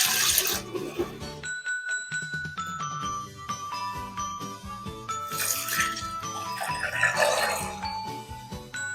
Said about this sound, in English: I'm just going to strain it off into this pot now to get out the fine bits.